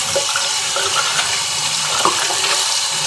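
A shaving brush is rinsed under a running bathroom sink tap, giving a steady close hiss of flowing water and splashing with no talking.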